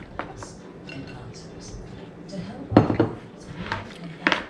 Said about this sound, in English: Now we're going to take our vegetables that we cut up and we're going to dump that right in there.